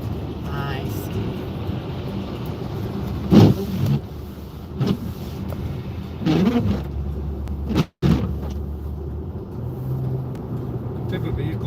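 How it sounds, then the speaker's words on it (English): A Dodge Journey driving on the road, with a steady low engine and road rumble heard from inside the cabin, a brief dropout midway, and people talking over it throughout. "What type of vehicle is this? This is a Journey. Dodge Journey."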